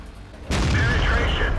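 A tank cannon fires in a tank video game: one sudden loud boom from near silence, followed by a rumbling, ringing tail.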